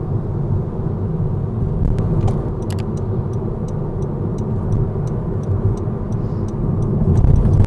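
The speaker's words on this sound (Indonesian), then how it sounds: "Jadi kita udah kembali nyetir normal, pakai pedal gas dan rem ini guys." Inside a moving Honda HR-V driven manually with the gas and brake pedals, a steady low road and engine rumble fills the cabin, with faint rhythmic ticking above it.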